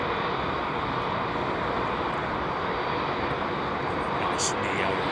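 Airbus A320 airliners at London Heathrow Airport fill the air with a steady, unbroken jet roar that stays loud and even throughout.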